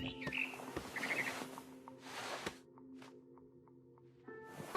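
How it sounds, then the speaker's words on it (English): A barn swallow chirping in the video game What Remains of Edith Finch, faint high twittering calls and a series of short evenly spaced chirps set among soft ambient game sounds and a low steady hum. "Then I heard chirping outside my window. It was a barn swallow going back to her nest."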